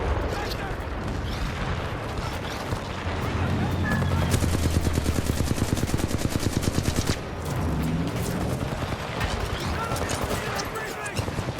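Full-auto assault rifle fire in Titanfall 2, loud and rapid bursts over a constant background of battle noise and explosions, with the densest automatic burst near the middle.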